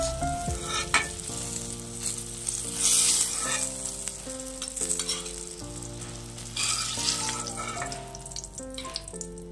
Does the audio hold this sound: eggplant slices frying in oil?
yes